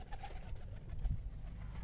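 Pigeons settle close by at a pigeon club, giving soft, low cooing calls that stand out against a quiet outdoor background without any talk.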